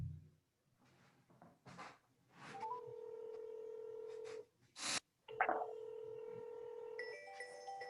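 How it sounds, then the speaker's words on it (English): A voice-activated phone assistant places a call: a burst of short DTMF dialing beeps and steady electronic call tones, with clicks between them, fairly loud and without talk. "So that just called my other phone"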